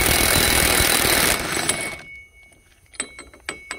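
Impact gun breaking loose a 36 mm axle nut on a Chevrolet Silverado during hub bearing replacement: a loud continuous pneumatic hammering burst that stops abruptly, followed by a few sharp metallic clinks of the socket and nut.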